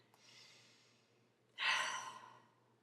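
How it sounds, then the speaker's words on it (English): A single deep breath drawn in before an EFT tapping session, a soft breathy inhale followed by a louder, fuller exhale sigh, close and alone with no talking. "I always like to start with a deep breath."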